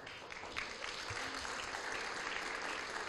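An audience claps steadily at a French-language talk, dense, even applause filling the room for a few seconds without letup, heard from within the crowd.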